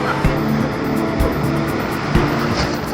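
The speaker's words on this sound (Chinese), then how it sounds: "哈哈，浪来了。" Ocean surf at Bondi Beach, a close, continuous wash of water and breaking waves with a few low thumps, fairly loud over a short stretch.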